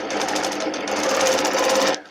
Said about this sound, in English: get our machine in there, and then we'll quilt our spine for our feathered wreath